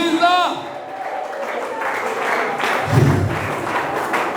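A church congregation breaks into applause, a rough rising wash of clapping and crowd noise that swells after a brief vocal cry at the start and carries on under voices.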